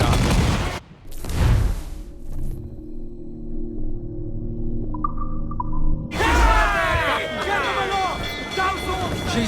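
Heavy cannon booms from a sailing warship in Assassin's Creed IV Black Flag, two loud blasts up front followed by sustained low rumble, then a burst of crashing debris and splashing water, with a voice speaking over it.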